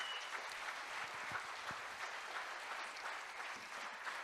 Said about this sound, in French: je vous demande de les applaudir correctement